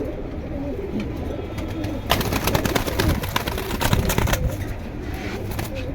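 Pigeons in a collection kept for sale coo in low, repeated murmurs, with a burst of wing flutter and shuffling near the middle. The sound is close and busy, with no clear talking.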